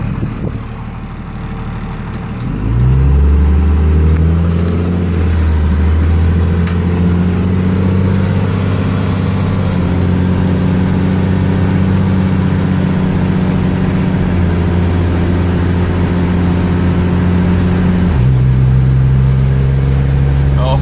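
A red Cummins diesel truck engine, a 24-valve with an HX35 turbo, starts up and then holds a loud, steady close-up rumble with a rising turbo whine and small shifts in revs, over faint talk in the background.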